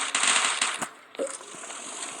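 Rapid gunfire bursts ring out in a shooter video game similar to Free Fire and PUBG, with dense crackling shots up front, a brief pause, then lighter scattered pops over steady game background noise.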